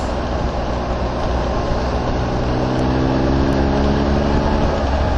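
Triumph Tiger Explorer XRT 1200 three-cylinder motorcycle engine on a test ride, a smooth, steady drone with a faint tonal hum under constant loud wind and road rush.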